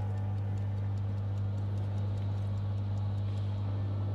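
A steady clock tick in the Resident Evil 4 Remake garden area repeats evenly under a low constant hum, faint and regular, with no talking.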